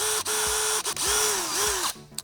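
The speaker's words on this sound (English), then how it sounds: "So I'm going to go ahead and drill right through that center." A power drill bores through a low-mount fender eliminator for a 2022+ Honda Grom motorcycle, its whine starting and stopping in short bursts with pitch dips under load, close and loud.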